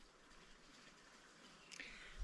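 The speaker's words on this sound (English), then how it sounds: "as you can hear, the water is still running really well" Steady rushing water flows continuously through plumbing, a soft even hiss with a brief louder surge near the end.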